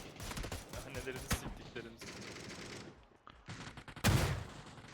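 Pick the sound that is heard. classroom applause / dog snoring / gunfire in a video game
gunfire in a video game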